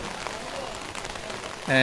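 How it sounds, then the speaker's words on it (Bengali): Heavy rain pours steadily all around during flooding in Comilla, a constant close wash of water with a brief louder burst at the end. "প্রচুর চারদিকে বৃষ্টি পড়ছে"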